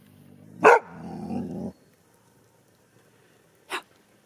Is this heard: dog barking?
yes